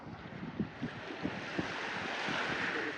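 Surf washing onto a clean city beach in Colombo, Sri Lanka, with a few rhythmic low wave thumps early on, then a steady broad roar of water and wind buffeting the microphone, with no talking.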